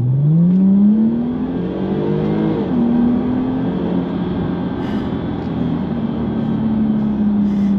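Jaguar XE S (X760) in dynamic mode pulling hard on a dual carriageway, its engine note climbing steadily through the gears with a brief shift dip, loud and continuous from inside the cabin.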